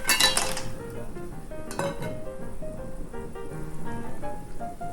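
Clams clatter sharply into a metal pot of boiling water, dropped along the pot's edge, with a burst of clinks at the start and more scattered shell knocks against the pot after.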